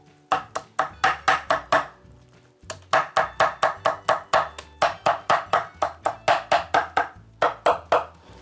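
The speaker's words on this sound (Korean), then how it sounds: "이쪽으로도 한번 더 다져주겠습니다." A knife minces citron flesh rapidly on a board in quick bursts of sharp taps, pausing briefly between runs; close and crisp, with no voices.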